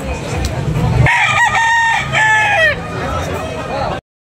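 A two-year-old yellow-legged rooster for sale at a chicken market in Tabunok, Talisay, Cebu crows loudly and close by in one full call, with some clucking and background voices around it.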